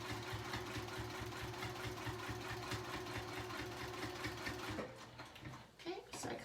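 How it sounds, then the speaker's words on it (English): Sewing machine running at a long stitch length of 3, stitching around the bottom of a fabric rectangle, a steady close mechanical whir with rapid needle rhythm that stops near the end, leaving a few faint clicks. "I'm going to stitch around the bottom of that rectangle."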